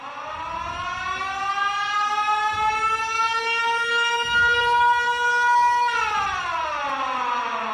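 Siren Head's siren wails loud and steady, a layered rising-and-falling horn tone that holds for several seconds before dipping in pitch near the end, with no voices over it.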